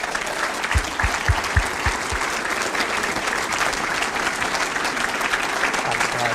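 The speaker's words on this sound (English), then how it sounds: "please give a warm round of applause" Audience applause at a supporters' trust annual general meeting for Sheffield Wednesday, steady dense clapping filling the room, loud and sustained throughout with a few low thumps near the start.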